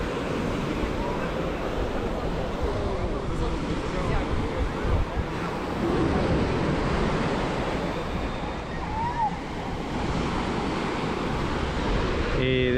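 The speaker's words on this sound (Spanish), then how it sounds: "Por la parte de allá hay más olas que por aquí." Surf breaking on the beach at Playa del Carmen on an early evening, a steady broadband wash of waves with wind buffeting the microphone, continuous and fairly loud throughout.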